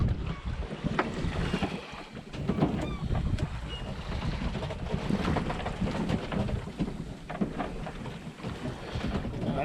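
Breeze buffeting a sailboat at sea in the Caribbean, a steady broadband rush of wind noise and water that stays loud and continuous throughout, with no talking.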